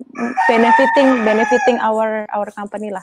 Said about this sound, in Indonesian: Sorry, ada suara ayam barusan.